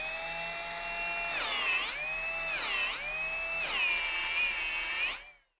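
An electric drill whining at high speed, its pitch sagging three times as a load slows the motor, then recovering each time, close and clear before cutting off abruptly.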